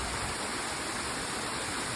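Several waterfalls and streams cascade into a small pond at Plitvice Lakes National Park in Croatia, giving a steady, dense hiss of rushing water that holds unchanged throughout, with no voices.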